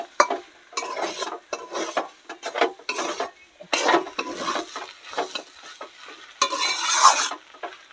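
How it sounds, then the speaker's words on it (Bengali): Garam masala being stirred into banana flower frying in a pan for a Bengali vegetarian mocha dish: irregular bursts of spoon-scraping and stirring over a soft sizzle, close and moderately loud, with no talking. "গরম মশলা দিয়ে একটু ভালো করে নেড়ে নেব"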